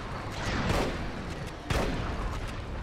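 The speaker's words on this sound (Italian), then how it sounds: "Magari l'esplosione così." Explosions and gunfire in the PS3 shooter Resistance: Fall of Man, with two loud, booming blasts about a second apart over a dense, continuous layer of battle noise.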